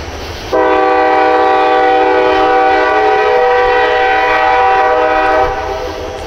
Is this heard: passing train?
yes